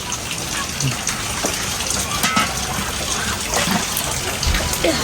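Water runs and splashes continuously while mangoes are washed for homemade pickle, a steady rushing gush with occasional clatters close by.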